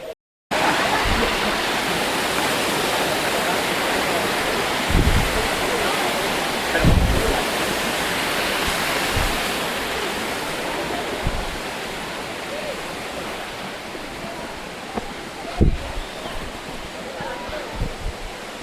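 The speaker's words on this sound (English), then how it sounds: "Let's go see this waterfall." A waterfall at South Mountain State Park roars in a steady, broad rush of falling water, close and loud throughout, with occasional low thumps and bumps from handling.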